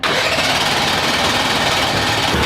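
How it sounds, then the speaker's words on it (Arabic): A modified car engine with an injection system fault cranks without catching, giving a dense, continuous churning whir that stays loud and steady. "كالعادة المحرك مش بيشتغل من أول مرة"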